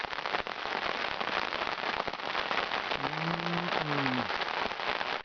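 Heavy rain pours steadily on a high plateau wild camp, a dense continuous hiss close around, with a brief whistling tone rising and falling partway through.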